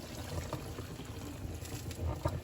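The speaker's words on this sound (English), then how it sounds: "And now we're going to just fill the pot up with water." Boiled water from a kettle poured steadily into a cooking pot, a continuous close splashing and trickling wash that runs throughout with small gurgling swells and no voices.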